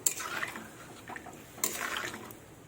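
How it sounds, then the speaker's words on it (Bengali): Water pours into a cooking pot for a bottle gourd and mirik fish curry, a faint, soft splashing wash with a brief stronger gush partway through, alone without talk. "এই দেখো বন্ধুরা, জলটা দিয়ে দিয়েছি।"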